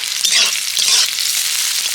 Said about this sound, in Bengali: পেঁয়াজ কুচি পেঁয়াজটাকে ভেজে নেব